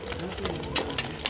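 Whole fish frying in hot oil in a pan make a steady bubbling sizzle with small crackling pops, fairly close, with a voice speaking softly over it.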